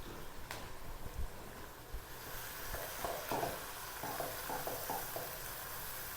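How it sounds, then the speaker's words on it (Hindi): Finely chopped green chillies and whole chillies with stalks sizzling and roasting in a kadhai, a steady soft frying hiss with occasional stirring scrapes and small pops, no voices. "और इन तमाम चीज़ों को 3 से 4 मिनट तक रोस्ट कर लेंगे"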